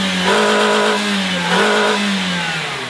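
A powerful Porsche GT3 engine revs hard twice, pitch climbing and falling with each burst, loud and close with no talking.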